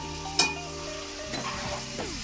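Potatoes dropped into a pan of chicken for Bengali-style home-made chicken kasha, frying with a steady sizzle and a brief sharp clatter near the start, with faint stirring.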